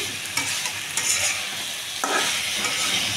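Boiled potatoes are stirred and fried in a pan for a potato curry: continuous close sizzling with a few distinct scraping stirs, and no speech.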